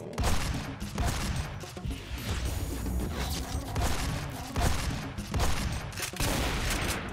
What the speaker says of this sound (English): I love this assault rifle